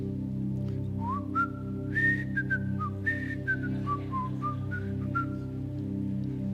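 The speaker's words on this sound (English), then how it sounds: "Let me just whistle the beginning." A person whistles the opening of The Andy Griffith Show theme, a clear, close, sliding and stepping melody held for several seconds alone over a steady low background hum.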